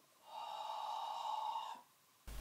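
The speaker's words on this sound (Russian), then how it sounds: "Вдох мы везде совершаем через нос, мощно и форсированно. Выдох через рот." A forceful abdominal-breathing exercise produces one long, loud, powerful breath of about a second and a half, sustained and close, followed by a brief quiet pause and a sharp onset at the end.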